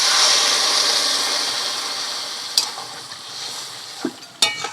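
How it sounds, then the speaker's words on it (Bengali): Water poured into a pan of Sundarbans king crab curry sets off a loud hiss and sizzle that gradually fades, followed by a few sharp scraping and stirring knocks against the pan. "এবারে জল দিয়ে দেওয়া হচ্ছে।"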